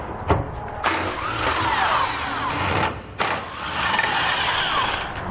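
A ratchet or power tool spins off 13 mm bolts holding the spare tire bracket on a 2019 Chevrolet Colorado, two sustained whirring runs separated by a brief pause, loud and close.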